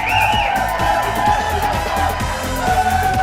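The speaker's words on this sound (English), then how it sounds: "Loud Monday crowd." A loud studio audience at a Monday talk show cheers and whoops continuously, a dense wash of voices and shouts holding steady throughout.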